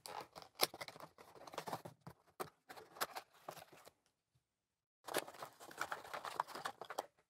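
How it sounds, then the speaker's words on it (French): Retail packaging for a Samson Go Mic USB condenser microphone being opened, with bursts of crinkling, rustling plastic and cardboard handling, a brief pause, then more rustling close up with no talk. "On va ouvrir le pack."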